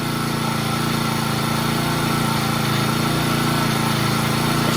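A new Honda HHT35S string trimmer engine runs steadily and close by, a continuous buzzing drone with a humming low tone that stays even throughout, no voices.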